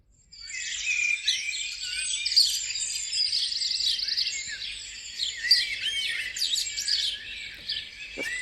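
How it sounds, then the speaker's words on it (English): Bright, rapid chirping song of a sparrow, repeated phrases tumbling over each other, fairly close and continuous against a quiet background. "That is what wakes me up at 4 o'clock every single morning. That's a sparrow."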